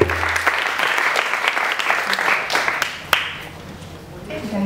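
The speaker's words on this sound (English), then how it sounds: "Can we give another round of applause to Aziza for being here?" An audience applauds at a spoken-word poetry performance, a full round of clapping that swells early, then gradually thins and fades, with a few sharper claps standing out near the end.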